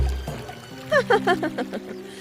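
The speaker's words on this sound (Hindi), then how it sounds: "उसका जादुई रुमाल पानी में गिर गया।" A cartoon magic handkerchief drops into water with a short, bright splash and a quick run of bubbly, pouring plops lasting about a second.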